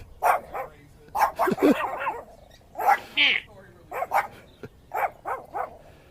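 A small Chihuahua mix dog yips and barks in short repeated bursts, close and lively, interleaved with people talking nearby.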